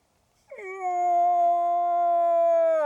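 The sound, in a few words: voice imitating moose call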